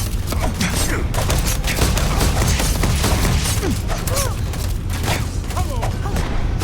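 Gunfire in the video game Starfield, a dense loud barrage of shots and booms running continuously with mechanical clatter.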